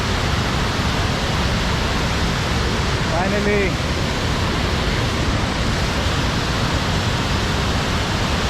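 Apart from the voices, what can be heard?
Vajrapoha waterfall rushing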